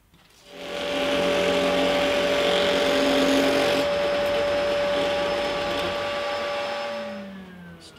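Thickness planer machining a bridge blank for an antique parlour guitar, starting with a motor whine that rises into a steady, loud droning cut for about six seconds and then winds down as it spins to a stop.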